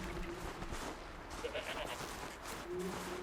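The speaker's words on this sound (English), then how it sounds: "Where did Mr. Mountain Goat go?" A mountain goat in the video game Horizon Zero Dawn gives a couple of faint, short bleats over quiet game ambience.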